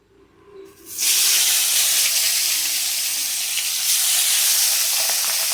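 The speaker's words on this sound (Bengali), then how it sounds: "এখানে দেখো তেলটা খুব সুন্দর গরম হয়ে গেছে এবার মাছগুলো আমি ছেড়ে দেবো" Pabda fish dropped into hot oil in a pan set off a sudden loud sizzle after a quiet second, then a dense, close hiss that stays strong to the end.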